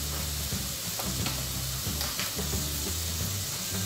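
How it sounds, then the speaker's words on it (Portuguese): Garlic and onion fry in a pan for tuna pasta, giving a steady close sizzle with light stirring scrapes and soft hiss running through. "Refogando aqui o alho e a cebola"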